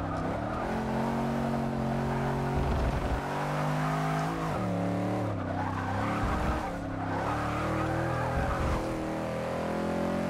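A 1988 Holden VL Commodore Group A SV race car in Forza 6 corners fast, its engine revving up and down through gear changes while the tires squeal and skid steadily throughout.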